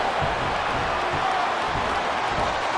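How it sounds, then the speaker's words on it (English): A steady, dense roar from the arena crowd in the WWE Smackdown vs RAW 2008 video game, an even wash of cheering and murmur that holds without a break. "This capacity crowd is making their opinions heard tonight."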